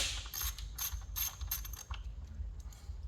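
A hand ratchet works 8mm bolts loose on the ignition coil of a 2012 Ford Escape, rapid clicking bursts close up, repeated several times over a low engine-bay hum, no speech.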